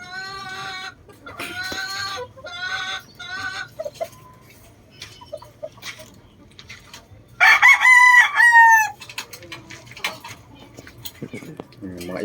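Young gamefowl stags in a neighbor's backyard crowing, several crows from more than one bird at moderate distance, one louder and nearer crow midway, with faint background noise between them.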